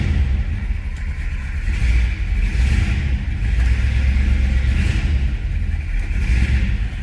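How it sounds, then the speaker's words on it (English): A 1966 Chevrolet Impala SS two-door hardtop with a throaty exhaust idles steadily, giving a deep, even rumble close by with slight wavering, and no one speaking. "Let's go ahead and fire it up so you can hear it run."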